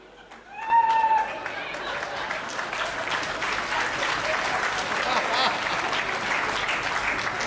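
Audience applause at a live Hindi comedy and song performance, a crowd clapping that swells in after a short sung note and carries on steadily and densely to the end, with some voices mixed in.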